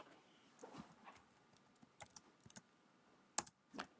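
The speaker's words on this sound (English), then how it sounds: "Just go ahead and type that in." Irregular clicks and clacks of keys on a computer keyboard as an equation is typed in, fairly close and quiet, in scattered bursts with a few louder strokes and no talking.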